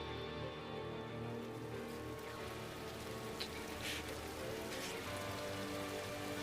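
Steady rainfall in an anime scene, a soft continuous patter running quietly under a low musical drone, with no talk.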